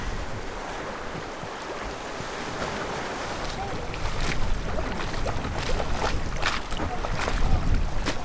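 A sailing boat moves through the sea in warm weather, with a steady rush of water and wind along the hull and intermittent splashes from waves, continuous and fairly close.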